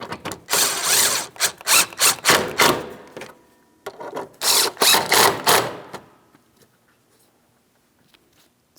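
Ratchet wrench snugging starter bolts on a 2007-2014 Ford Edge 3.5L V6, producing close, loud rapid clicking in quick strokes, one run of bursts then a pause and a second run before silence.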